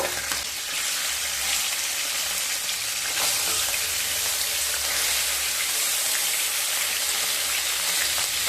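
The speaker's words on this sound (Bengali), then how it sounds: "দুটো সাইড মাছ খুব ভালোভাবে ভেজে নেব" Parshe fish frying in hot mustard oil after being flipped, a steady, dense sizzle with crackling spatter that stays loud and even throughout, with no talking.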